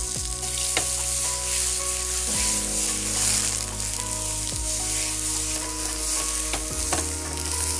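Large round tomato slices grill in a pan with a loud, steady sizzle and hiss, joined by occasional clicks and light scraping nearby.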